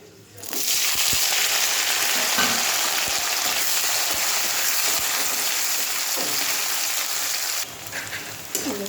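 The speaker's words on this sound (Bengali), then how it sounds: "পেঁয়াজটা ভাজা হয়ে গেছে, লাল লাল মতন হয়ে গেছে" Five onions frying in hot oil, a loud, dense, even sizzle that rises quickly at the start and holds steady, with a few soft knocks of stirring before it drops slightly at the end.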